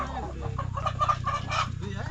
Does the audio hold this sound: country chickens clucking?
yes